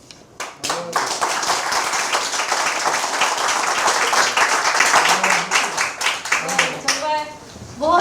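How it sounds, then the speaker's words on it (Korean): Audience applause at the founding ceremony of a Korean political forum, a dense wash of clapping hands that swells and holds for several seconds, with a few voices and cheers rising near the end. "큰 박수 보내주시죠"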